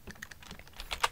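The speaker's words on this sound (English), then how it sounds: "You're gonna type in the name of your file, type of George." A file name typed on a computer keyboard: a quick, faint flurry of uneven key clicks over about a second.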